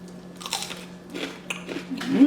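Sushi being chewed with loud, close crunching bites in bursts during a mukbang meal, with a voice briefly present.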